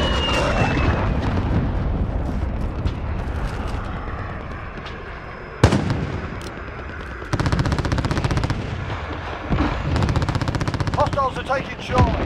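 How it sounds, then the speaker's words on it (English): Call of Duty Modern Warfare Ground War multiplayer combat: bursts of rapid machine-gun fire, a sharp explosive blast about midway, and a constant roar of aircraft engines, with distant booms and gunfire continuing after it, all loud and dense. "Enemy cruise missile incoming."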